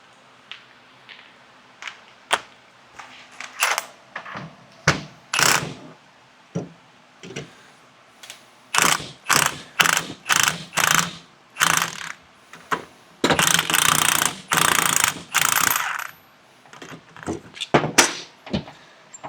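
A ratchet loosens the strut top hat nut on a Ford Focus during a lowering-spring install, in bursts of sharp clicking runs with pauses between, some long rapid stretches, close and clear.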